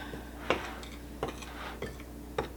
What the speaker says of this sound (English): give that a little bit of a stir so it all gets mixed in with the flour